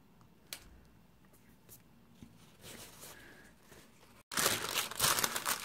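Deli paper is handled and pressed down over a painted stencil on cardstock: soft crinkles and rustles that turn into a louder, sustained crumpling and pressing near the end, close up with no talk.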